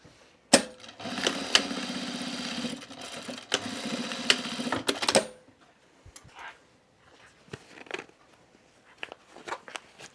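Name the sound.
sewing machine sewing across the ends of a zipper top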